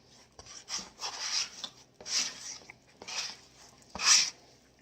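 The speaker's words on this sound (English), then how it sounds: "We're using our bench scraper, adding flour where we need it, but not a lot." A bench scraper working sticky, moist bread dough on a floured surface, giving a series of soft rasping scrapes in irregular strokes, close and fairly quiet, with no talk.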